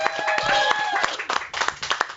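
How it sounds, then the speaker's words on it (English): A short round of clapping in a talk radio studio, quick scattered claps from a small group mixed under a voice talking over them. "Big round of applause for Dustin, everybody."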